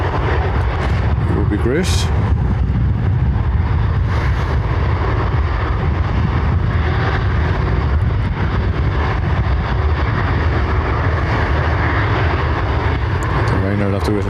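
A heavy jet departing Dublin Airport from runway 10R produces a loud, broad engine rumble that stays strong throughout, with someone talking briefly over it.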